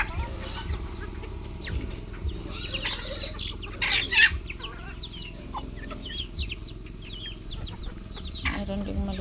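Native chickens cluck steadily in a farmyard, a busy mix of soft clucks and calls near and far, with a brief flurry of flapping wings and a person speaking at times over the flock.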